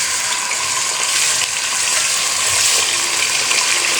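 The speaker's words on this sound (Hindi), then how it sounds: "आलू हमने फ्राई कर लिए हैं, अब हम इसमें चिकन डाल रहे हैं।" Potatoes and chicken frying in a pan for Bombay biryani, a steady loud sizzle with a constant hiss and no pauses.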